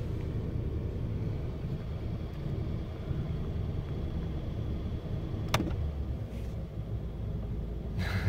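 A car engine idles with the foot off the gas, a steady low rumble heard from inside the vehicle, constant and moderate, with a faint click partway through and no talking.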